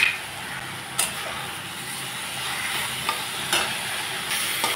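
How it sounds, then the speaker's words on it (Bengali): Dheki greens and egg stirred in a frying pan, a steady close sizzle with a few sharp scrapes of a utensil against the pan and no talk. "এখন শাকের সঙ্গে আমি ডিমটাকে নাড়াচাড়া করে নেব"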